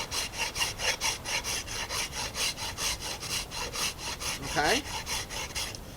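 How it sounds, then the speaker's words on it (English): A wooden non-returning boomerang worked with a coarse-tooth file, steady rhythmic rasping strokes close up at about three per second, with a brief spoken word partway through. "I'm going to take a consistent layer with that coarse tooth pattern and then flip it over and file those out."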